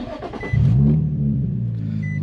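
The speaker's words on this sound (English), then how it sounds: "So let's go ahead and turn on the car." An Infiniti G35 engine cranks briefly and catches, settling into a low, steady idle rumble close by.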